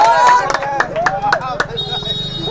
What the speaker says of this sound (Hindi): अच्छा लगे तो ताली एक बार बजा दीजिए